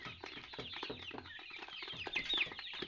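Kroiler chickens cluck in a cage, many soft overlapping clucks and murmurs from a close flock, steady and busy with a few sharper calls.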